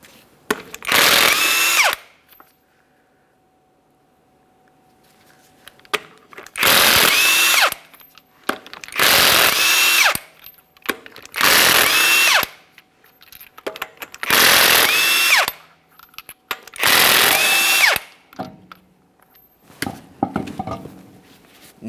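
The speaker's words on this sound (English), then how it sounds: "remove all 6 of your 22mm lug nuts and then the wheel" A power tool zips off the 22mm lug nuts of a GMC Acadia wheel in six loud, close bursts of about a second or two each, separated by short pauses.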